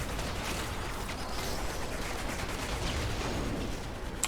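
Rapid, continuous gunfire fills the scene in the video game Warframe, a dense rattle of shots with no pauses, moderately loud and close, without voices.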